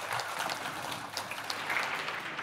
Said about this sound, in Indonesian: Tepuk tangan untuk para undangan terhormat semuanya yang hadir lengkap.